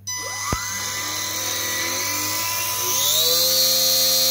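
Electric motor and propeller of a radio-controlled witch-on-broomstick model plane whining at throttle, a close, steady high-pitched buzz that rises in pitch as it speeds up.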